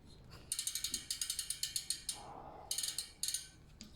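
Rapid ratcheting clicks from the freehub and rotor of a Yoeleo SAT 38/38 DB SL disc-brake bicycle wheel being spun, loud and close in bursts with brief pauses between spins.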